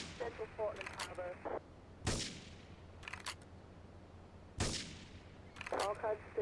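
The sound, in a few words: gunfire and explosions in video game Grand Theft Auto III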